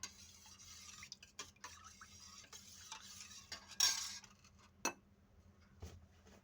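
Buttermilk with fresh ginger juice being stirred with a spoon for chilled mattha: faint, sparse clinks and soft scrapes in a quiet room, with one brief louder swish near the middle.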